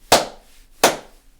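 Two hard, loud hand claps spaced well apart, each a bright smack with a short decay, with nothing else around them.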